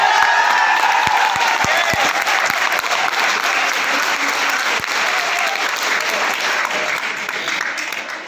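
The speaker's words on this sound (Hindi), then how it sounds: "ताली हो जाए" Loud, sustained audience applause filling a seminar hall, dense clapping with a few sharp individual claps standing out early, continuing steadily before easing slightly at the end.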